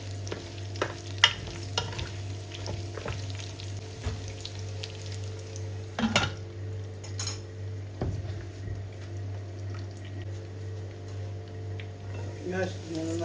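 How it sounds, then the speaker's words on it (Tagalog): Adobo with egg sizzles in a frying pan of spattering oil while a spoon scrapes and stirs it. Intermittent clatter and crackle sit over a constant low hum, and a voice talks at times. "Haluin natin siya."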